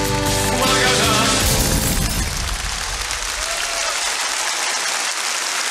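A studio audience at the Vechernii Kvartal 95 comedy show bursts into thick, loud applause that drowns out music fading from the opening seconds, then carries on as a dense, steady roar of clapping.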